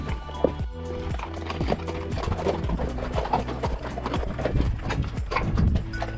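Horses walk along the Peekaboo Loop Trail in Bryce Canyon, their hooves clip-clopping in a steady, overlapping rhythm on the dirt and rock path, close and clear, with faint creaks of tack and no talk.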